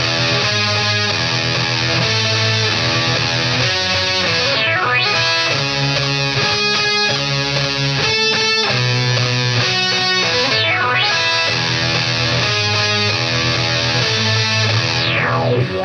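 Heavily effected electric guitar plays continuously, thick with distortion and sweeping modulation, loud and dense for the whole stretch with no voices.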